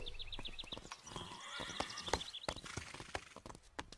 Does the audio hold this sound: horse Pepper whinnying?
yes